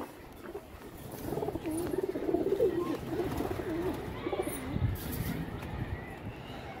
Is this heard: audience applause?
no